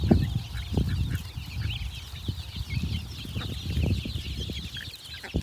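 Chickens and young chicks cluck and chatter steadily while feeding in a village poultry yard among ducks, with overlapping calls throughout and no talk.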